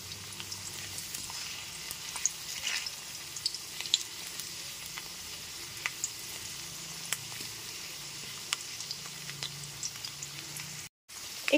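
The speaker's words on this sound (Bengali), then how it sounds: "এইবার কেটে ধুয়ে রাখা আলুর টুকরোগুলোকে দিয়ে দিচ্ছি। গ্যাসের ফ্লেমটা মিডিয়ামে রেখে আলুগুলোকে লাল করে ভেজে নেব।" Washed potato pieces frying in hot oil over a medium gas flame, a steady soft crackling sizzle throughout with faint pops, no talking, cutting off briefly near the end.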